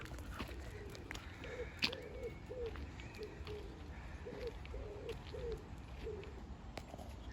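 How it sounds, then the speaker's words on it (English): A wood pigeon coos from a tree outdoors, a faint, distant series of soft hooting phrases repeated in a rhythmic pattern over quiet ambient background, with occasional light clicks and no speech. "There is a wood pigeon just sitting in that tree, living his best life."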